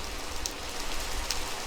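Rain falling in the video game Minecraft, a soft, even hiss of drops with a low rumble underneath, faint and continuous with no talking.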